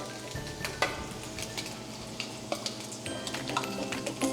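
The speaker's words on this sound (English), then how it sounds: "The garlic, you're gonna be sauteing it until it is a little tender." Garlic sautéing in a pan while cooking Italian carbonara gives a steady, soft sizzle, with a few light scrapes of stirring and utensil taps rising above it.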